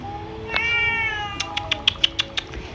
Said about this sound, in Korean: 아기 고양이